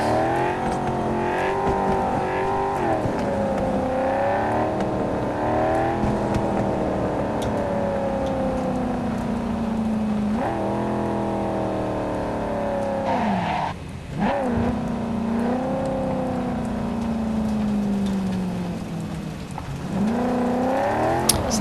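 A car driven in the video game Cyberpunk 2077, its engine droning steadily and shifting pitch as it speeds up and slows down, with brief rough patches like skids, continuous and fairly loud with no talk.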